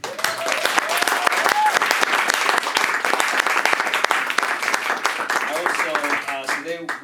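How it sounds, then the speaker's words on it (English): An audience at a spoken-word poetry night claps in a dense, steady round of applause that fills the room, with voices calling out and whooping over it, especially near the end. "So please give them a big round of applause."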